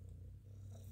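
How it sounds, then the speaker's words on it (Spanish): A deaf pet cat gives a soft, odd, low purring meow indoors, a faint continuous sound with no talk over it. "Ahí si escuchan un sonidito es ella maullando nomás como es sorda mi gatita, maulla medio raro."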